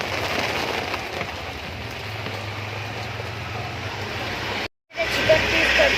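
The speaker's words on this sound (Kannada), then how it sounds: "ಮಳೆ ತುಂಬಾ ಜೋರಾಗ್ತಾ ಇದೆ ನೋಡಿ" Heavy rain pours down in a dense, steady hiss outside a roadside chicken shop, broken by a brief dropout of silence near the end before the downpour returns.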